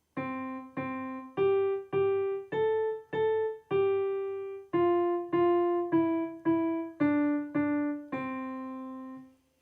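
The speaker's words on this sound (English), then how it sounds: "if I have a piece of music like this and I play it on the piano" A piano plays a short melody of about fifteen notes, each struck note decaying quickly, steady and clear with no voices.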